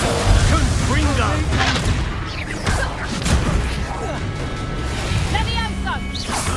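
Levioso and Confringo spells cast in combat in Hogwarts Legacy, a chain of whooshing casts and fiery blasts with booms and crashes landing every second or so, under loud game effects with voices.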